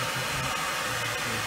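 A heat gun blows a steady, loud rushing hiss while drying and shrinking tint film on a car headlight, continuous and close with no speech.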